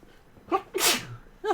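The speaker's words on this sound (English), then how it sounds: "I feel like I'm about to sneeze" A single loud, close sneeze, preceded by a short sharp intake of breath and followed by another quick breathy burst, with no talk over it.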